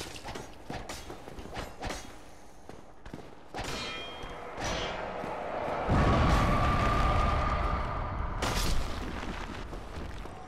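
Exploding heads detonating in Dark Souls Remastered, heard as a string of game clangs and mechanical hits followed by a loud, sustained booming rumble with a ringing tone, ending in another sharp blast.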